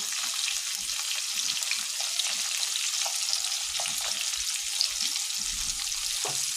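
Cumin powder frying in a hot pan, a steady hissing sizzle with faint low knocks and stirring sounds underneath, no voices.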